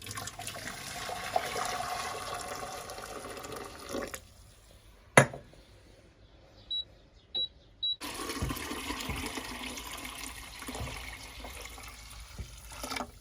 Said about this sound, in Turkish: Yerleştirdik ve üzerine kaynar su ilave edeceğim